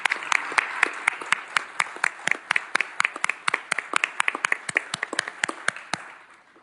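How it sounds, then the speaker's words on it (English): A city council meeting audience claps for local firefighters, a sparse group of distinct, crisp hand claps in a quick rhythm that thins out and fades near the end. "So let's have a round of applause for our firefighters."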